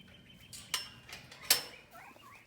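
A backyard flock of five hens, including a black copper Marans, gives two short sharp squawks followed by softer low clucking, nearby and moderately loud.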